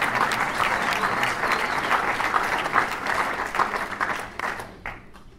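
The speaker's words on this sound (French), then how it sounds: "on peut l'applaudir" Audience applause at an EELV political meeting in Marseille, a dense, steady wash of many hands clapping that thins out and fades near the end.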